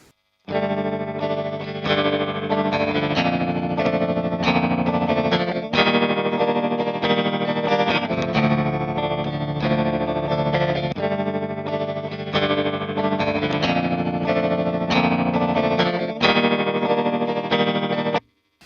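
An electric guitar plays chords through a tremolo pedal at its fastest speed, the volume shuddering rapidly and steadily throughout, with no voices.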